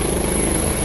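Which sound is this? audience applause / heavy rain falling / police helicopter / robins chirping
police helicopter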